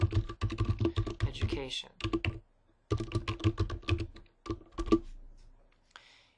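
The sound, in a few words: typing text on a computer keyboard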